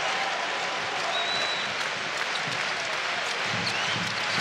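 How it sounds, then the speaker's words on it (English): Icelandic basketball fans roar and clap in a loud arena at a FIBA EuroBasket 2017 game against Finland, a dense, sustained wall of crowd noise and applause with a commentator's voice faintly underneath. "the Icelandic fans make themselves heard straight away"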